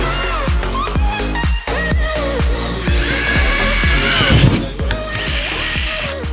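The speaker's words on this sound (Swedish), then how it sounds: "Jag älskar att borra." A loud power drill whirring in quick repeated bursts, its pitch revving up and dropping each time, very close.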